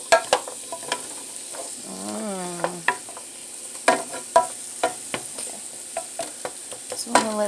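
Food sizzles steadily in a pan while a utensil stirs and scrapes through it, giving scattered sharp clicks and knocks over the continuous frying hiss; close and moderately loud, with no talking.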